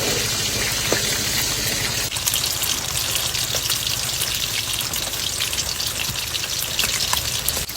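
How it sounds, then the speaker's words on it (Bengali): Kartik fish fry in oil in a cooking pot, a constant loud crackling sizzle with popping spatters, close and uninterrupted, without speech. "এবার মাছগুলো ভেজে নেবো কার্তিক মাছ ভেজে রান্না করবো"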